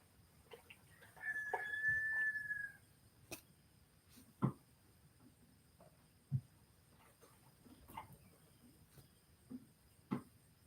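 A rooster crows once in the morning outdoors, a clear drawn-out call near the start, followed by scattered faint clucks and small knocks in a quiet setting.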